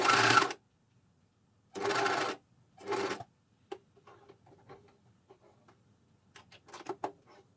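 A Juki MCS1500 coverstitch machine sews elastic onto knickers in short separate bursts, three loud runs followed by quieter scattered ticks and clicks of fabric handling.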